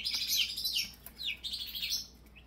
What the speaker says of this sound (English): my parrot is going to be very noisy